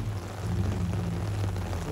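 Steady rain drumming outside a Dodge 4x4 on a muddy track during a storm, a dense continuous hiss with a low rumble underneath, fairly loud and constant throughout.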